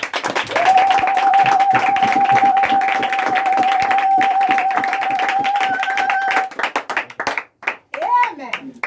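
A church congregation claps and cheers at a pastor's anniversary celebration. A long, high sustained vocal cry rides over steady clapping for several seconds. The clapping then thins into scattered claps, and voices follow at the end.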